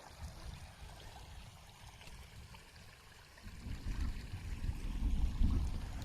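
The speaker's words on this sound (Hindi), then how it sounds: "ये मटमैला पानी आ रहा है।" Muddy flash-flood water flowing down a stream channel, a low rushing murmur that starts faint and swells noticeably louder in the second half, with no talking over it.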